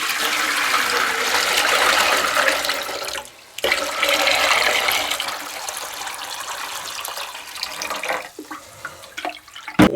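Water gushes steadily from a tap into a lidded container for brining dried white beans, a broad continuous pour that briefly stops and resumes, then tapers off with a few clinks near the end.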